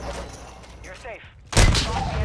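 Gunfire in Call of Duty: Modern Warfare II erupts as a loud burst of shots after a stretch of quieter game sound with a voice speaking.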